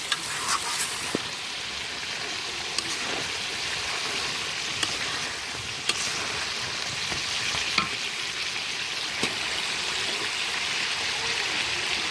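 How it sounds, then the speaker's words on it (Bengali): Steady, continuous sizzling of broiler chicken sautéing in a hot pan, with occasional faint clicks of a utensil throughout. "হালকা একটু কষিয়ে নিলেই হয়ে যাবে ব্রয়লার মুরগির কালো ভুনের রেসিপি"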